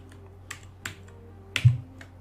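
A few sparse keystrokes on a computer keyboard, about five soft clicks spread over a couple of seconds, close and quiet, with a slightly heavier press near the end.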